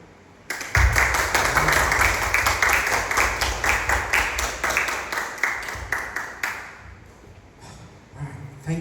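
A church or worship congregation gives a sustained round of applause and cheering for Jesus, dense clapping that swells in abruptly and then thins into scattered claps over several seconds.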